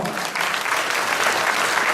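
Audience applause filling a hall at a Carpathian Cup tournament ceremony, a dense, steady wash of clapping that swells slightly after a brief start.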